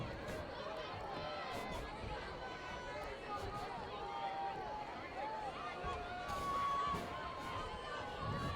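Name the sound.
crowd at a high school football game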